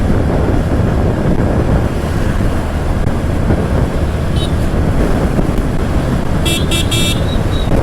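Strong gusty wind roars against the microphone while riding a motorbike through a storm with rain coming on near Koduru, a loud continuous rumbling buffet with a few brief high beeps near the end.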